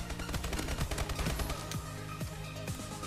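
Rapid automatic gunfire in the futuristic shooter Call of Duty Advanced Warfare, crisp repeated shots in quick bursts with a few heavier reports, close and loud, with no talking.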